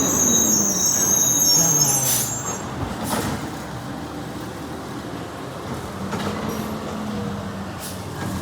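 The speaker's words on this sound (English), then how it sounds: "Loud ass garbage truck coming by." A loud garbage truck passes by outdoors, heavy rumbling low end with high-pitched squealing and hissing brakes near the start, then a steady engine roar that fades slightly as it continues.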